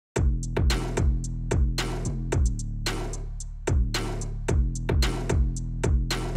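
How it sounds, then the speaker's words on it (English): A punchy drum pattern repeats with heavy low kicks and a snare layered with a tiger roar sample, each hit giving a sharp, gritty crack over a driving beat, loud and close throughout. "I layered the snare with a sound of a tiger"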